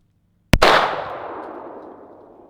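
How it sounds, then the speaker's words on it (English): A single sharp, loud gunshot from a Hi-Point C9 9mm pistol fired while burning, a sudden crack followed by a quickly decaying rumble and tail in an otherwise quiet outdoor setting. "Here we go, trying to shoot it while it's on fire."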